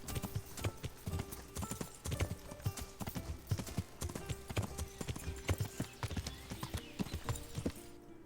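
Horse hooves clip-clopping in the video game Kingdom Come as Henry mounts up, a busy run of hoof strikes on hard ground with a brief whinny, set against faint ambient game sound.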